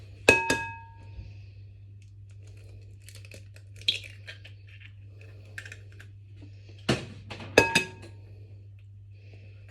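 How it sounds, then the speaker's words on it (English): Eggs are mixed in a bowl with scattered light clicks and clinks of utensil against the bowl, sparse and close, with a low steady hum underneath. "So add the 2 large eggs and break to mix up the yolks."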